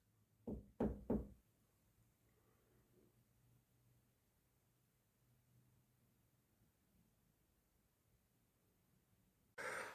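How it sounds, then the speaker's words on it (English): Three sharp knocks come close together early on, then near-silence with faint background hum, and another loud burst right at the end. "I'll show you how I want you to knock"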